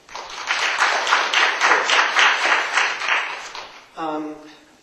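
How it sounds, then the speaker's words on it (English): An audience bursts into sustained applause for several seconds at a talk on leadership, the clapping dense and even before fading as a voice starts speaking. "Give them a round of applause."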